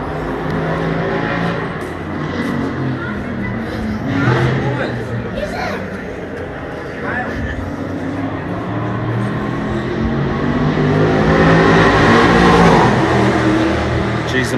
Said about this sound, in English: Geez, the Mustangs sound pretty good.